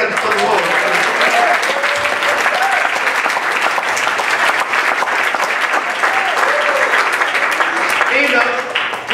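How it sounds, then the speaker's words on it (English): A church congregation at a pastoral anniversary service claps steadily and loudly for several seconds, dense and continuous, with voices mixed into the clapping. "Come on, clap your hands to the Lord."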